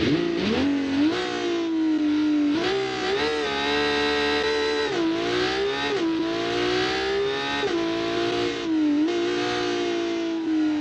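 A tuned all-wheel-drive car in a racing video game, its engine loud and close, revving up and down in repeated rising sweeps and holding a steady high drone between them, with no voices.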